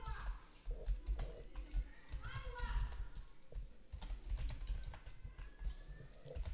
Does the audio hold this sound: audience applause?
no